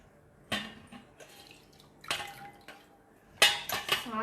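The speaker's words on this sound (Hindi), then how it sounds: "तो इस तरह प्रेस कर करके हम इसका पानी निकाल लेंगे।" Food being squeezed by hand in a home kitchen to press the water out gives a few separate wet squelches and drips, each with a clink of utensils, set between quiet gaps with no talk.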